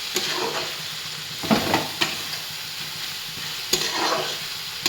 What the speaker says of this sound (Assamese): এতিয়া মই পেষ্ট কৰি থোৱা সৰিয়হ জলকীয়াখিনি দি দিম। এতিয়া লৰাই দিম।